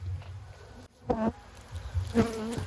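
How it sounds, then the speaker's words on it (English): A swarm of honey bees buzzes close by, a constant low hum of many wings, with a few individual bees flying past the microphone in louder rising and falling drones. "when bees are full, they're less likely to sting as they naturally would"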